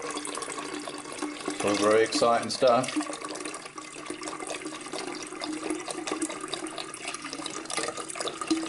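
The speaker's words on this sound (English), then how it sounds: "over the top of the yeast now, we pour in another litre of apple juice." Apple juice is poured over cider yeast in a container as a continuous running, splashing liquid sound that stays steady under a voice talking throughout.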